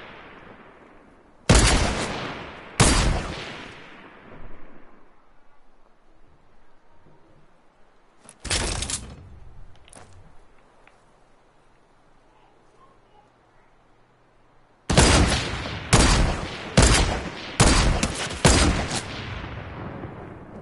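Gunfire in a shooter video game during a one-on-one match: several sharp, loud shots in bursts, two early, one in the middle, then a rapid string of five or six near the end, with quiet gaps between.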